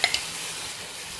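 Onions sizzle in a hot pan for ginger gravy, a steady bright hiss opening with two quick stirring clinks, with no talk.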